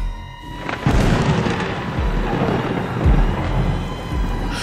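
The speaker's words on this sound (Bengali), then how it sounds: "আকাশের এই প্রান্ত থেকে ও প্রান্ত চমকে দিয়ে আবারও একটা বিদ্যুৎ চমকালো" Thunder rumbling in a storm, used as a sound effect in a Bengali ghost story: low rolling booms rising and falling, with a sharper crack near the start and faint rain-like hiss underneath.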